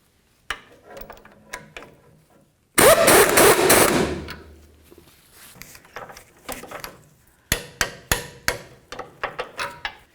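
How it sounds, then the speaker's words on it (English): Toyota Tundra sway bar link nut being tightened and torqued: a long, loud burst of power-tool rattling, then a run of sharp metallic ratchet-like clicks and taps in quick clusters, close and without talk. "After I get it on there, I'll snug it up and torque it to 111 foot-pounds"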